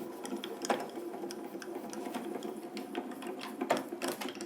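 An A4 embossing folder with paper is cranked through a manual die-cutting machine, giving a continuous close mechanical whirring and clicking with a few louder knocks, no talking.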